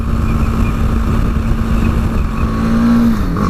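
A 2018 BMW G310GS motorcycle engine pulls steadily uphill, a loud, close, continuous drone that holds one pitch and then rises slightly near the end as the bike accelerates.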